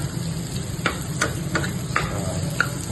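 Butter melting into browned garlic in a pan, a steady sizzle with several regular scraping stirs of a utensil, close and alone with no talk.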